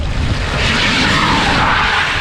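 A Tesla-swapped C10 pickup does a one-tire burnout on its passenger side, running only the front electric motor: a loud, continuous roar of spinning rubber and tire noise, close and unbroken throughout, with no voices.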